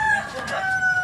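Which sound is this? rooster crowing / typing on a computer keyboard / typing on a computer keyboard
rooster crowing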